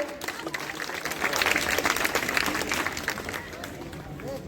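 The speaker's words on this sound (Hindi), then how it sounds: "तालियों से स्वागत किया जाए भाई।" Applause welcoming a guest teacher at a village youth group's general knowledge competition in Mathura; a crowd claps in a steady, moderately loud wash that swells in the middle, with voices murmuring throughout.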